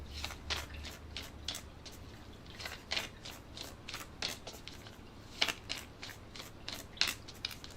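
Reading cards being shuffled by hand, producing a steady run of soft, close riffling and flicking snaps, each quick and crisp, repeating over a low background hum.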